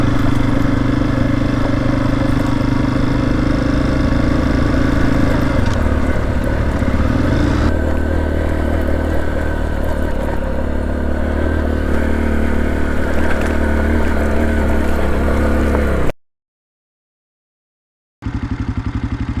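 Honda XR motorcycle engine running steadily under load on a pipeline road, a loud continuous drone that shifts in pitch as the gear changes down toward first, then cuts out briefly before resuming.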